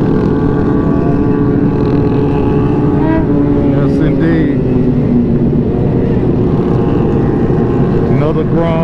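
Honda Grom motorcycle riding past during a group ride-out, a buzzing engine passing amid a loud, constant wash of wind and traffic noise, with a person talking over it.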